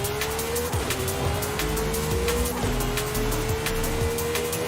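A Volkswagen Golf GTI races in Forza Horizon 5, its engine holding a steady rising drone while the tires squeal briefly through corners, continuous and close with no talking.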